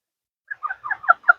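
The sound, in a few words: pet bird calling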